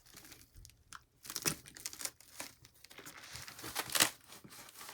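Packaging being cut and pulled open while unboxing a heavy Cube Audio shipment: close crinkling, tearing and crunching in irregular bursts, with a sharp louder rip near the end.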